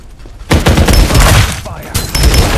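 Gunfire in the battle royale game Farlight 84 during solo-versus-squad play: loud, sustained bursts of rapid shots with explosive impacts, continuous through the clip.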